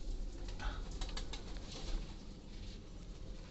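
Pigeons coo softly and continuously inside a crowded pigeon house on a farm, faint and low with a steady murmuring texture.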